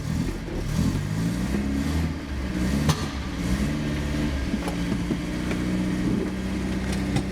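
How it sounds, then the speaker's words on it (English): Engine of a classic Vauxhall Firenza revving while the car sits, a steady loud mid-pitched drone that rises and falls through several throttle blips over about seven seconds, with no talking. "Give it a rev, Bill."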